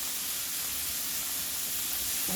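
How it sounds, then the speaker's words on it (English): A burger sizzles on a hot griddle while being chopped up, giving a steady, loud broadband hiss of frying with no distinct chopping strikes standing out. "you're going to start just chopping this burger up, just like this"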